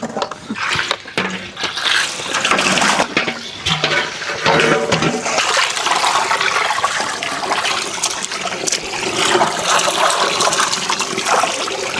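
Tap water runs and splashes steadily at close range while ginger and garlic are rinsed by hand in a kitchen. The stream is uneven and is broken by brief clatters as the pieces are handled.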